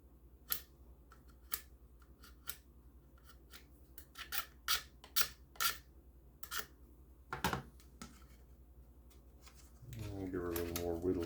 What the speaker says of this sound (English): I'll give her a little more whittle here.